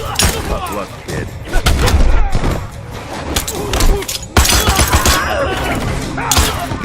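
Erron Black's gunfire in Mortal Kombat X, a gunslinger fighter: loud, dense bursts of shots and impacts with thuds and shattering hits, punctuated by heavier blasts amid chaotic fight effects and occasional game voice.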